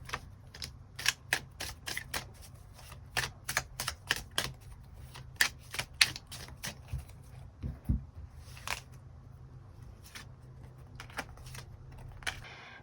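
Tarot cards being shuffled and drawn produce a quiet run of crisp, sharp snaps and flicks in fast uneven bursts over a low steady hum, with no talking.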